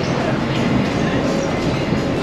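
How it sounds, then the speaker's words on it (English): A tram rolls directly through New Regent Street in Christchurch, a loud, close rumble with rail clatter and a faint wheel tone, steady throughout. "The tram is going directly through the street."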